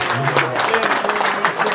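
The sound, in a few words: loud applause at a wedding ceremony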